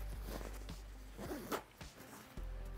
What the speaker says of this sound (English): and then just zip it right on up